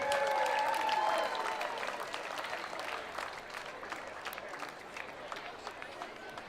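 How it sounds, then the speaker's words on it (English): Applause from a crowd at a 4th of July parade, a loud burst of clapping that fades into sustained, diminishing claps and cheers, with people talking underneath. "Give a round of applause, ladies and gentlemen"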